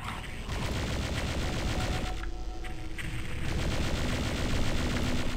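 Rocket launcher fire in the video game Doom 64 sounds as a dense, continuous barrage of loud blasts and explosions, repeating with no pause and no voice over it.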